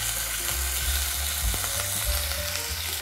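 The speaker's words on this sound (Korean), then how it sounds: "그래서 뒤집어서 그대로 굽도록 하겠습니다" Chicken pieces pan-frying after being flipped to the other side, a loud, steady close sizzle with occasional scraping stir sounds, no voices.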